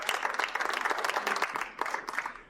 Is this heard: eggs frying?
no